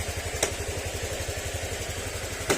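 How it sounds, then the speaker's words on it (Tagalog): A motorcycle engine idles quietly with a steady, even low putter, close by and alone, broken by two brief clicks or clatters. "tahimik naman yung andar ng makina niya mga sir"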